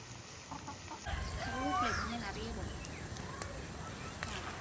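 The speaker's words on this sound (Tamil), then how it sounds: "அது நம்ம வீட்டில் வளர்க்குற கோழி" A pet chicken at a village home clucks and makes drawn-out vocal calls close by over a steady background hiss, with a person talking at moments.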